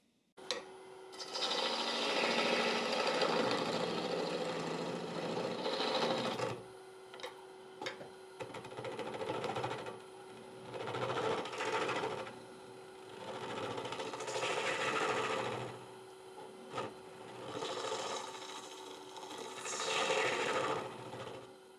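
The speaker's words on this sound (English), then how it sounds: "Going to sand on a 3-inch disc, 80 grit all the way through to 240." A 3-inch sanding disc works over a turned bowl, moving from coarse 80 grit toward 240, giving a steady close whirring rasp that swells and eases in passes, with a brief pause near the middle and no talk.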